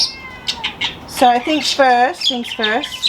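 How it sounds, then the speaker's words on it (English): A small house cat meows several times from indoors while wanting to go outside, short rising cries in a quick series, heard over someone speaking nearby. "you might hear a little cat meowing a little bit"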